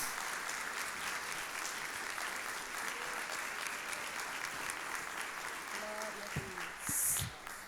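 A church congregation applauds at a Portuguese-language Foursquare Gospel prayer service, steady distant clapping filling the room, with a brief voice and a cheer near the end.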